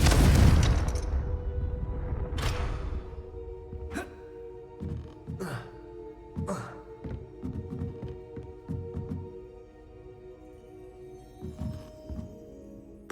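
A Confringo fire spell cast in Hogwarts Legacy, a burst of whooshing blasts and thuds followed by several sharp impact bangs and rumbling booms, with the level easing toward the end.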